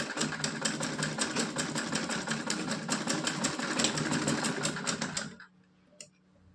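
A sewing machine stitches a small Laddu Gopal dhoti along a curved edge, a rapid, rhythmic mechanical chatter heard close up for about five seconds before cutting off to near silence with a faint click.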